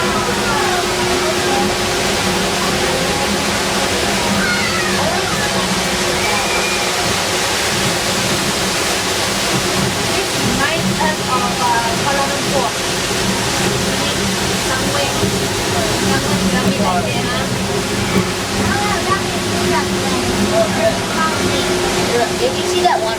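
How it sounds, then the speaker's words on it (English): Big waterfall roaring during a boat ride close to the falls, a loud, unbroken rush of falling water with people talking faintly underneath. "Look like we're going to go in that big waterfall."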